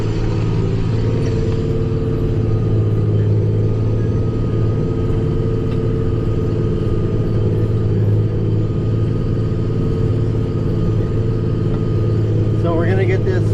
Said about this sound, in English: So we're gonna get this finished chisel plowing